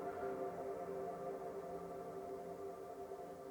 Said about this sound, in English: what you're hearing right now is just the reverb tail from this